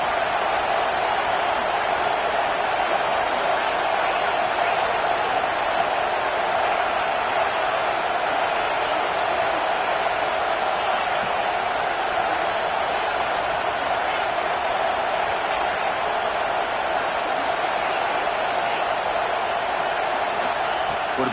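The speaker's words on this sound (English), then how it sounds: "listen to this crowd noise. This stadium is vibrating." A packed football stadium crowd roars in a dense, unbroken wall of noise that holds steady and loud for the whole stretch, with no single voice standing out.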